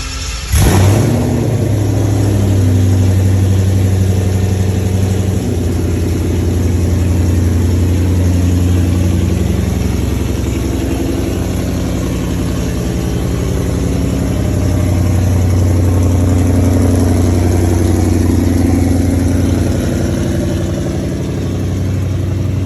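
A Ford Mustang Cobra Jet starts up in a shop bay, then revs and settles into a loud, rumbling idle with a steady low drone throughout and no talking.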